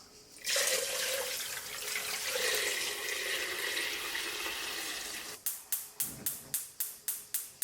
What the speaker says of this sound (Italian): Versiamo la loro acqua.